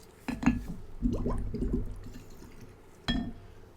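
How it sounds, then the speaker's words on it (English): A turkey baster squirts water onto a dry orchid potted in moss, giving a few close, soft squirts and gurgling drips in short bursts with quiet gaps between. "I'm going to use a turkey baster to water this one to show you"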